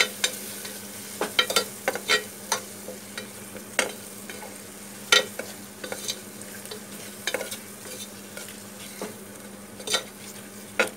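Onions with turmeric fry in a pan while being stirred, producing a soft constant sizzle beneath repeated sharp scraping and clinking strokes of the spoon at an irregular rhythm.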